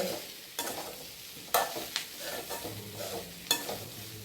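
Tapioca tempering being stirred in a pan, soft sizzling under a few sharp spoon scrapes and knocks against the metal, close and moderately loud.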